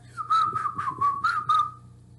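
A person whistles a short tune of about six bright, steady notes, close and clear, with no talking over it.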